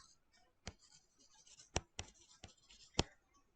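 Pen strokes on paper, close and fairly quiet, with several sharp ticks and scratchy marks scattered among soft continuous writing.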